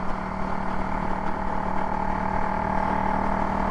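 KTM Duke 390 single-cylinder motorcycle fitted with a Powertronic ECU, its engine running with a steady, throaty drone and a low pulsing hum, close and continuous.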